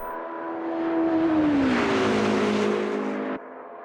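Hypercar engine in the Automobilista 2 racing game, a loud high-pitched howl that rises, dips through a gear change and builds again before cutting off sharply, with no talk over it.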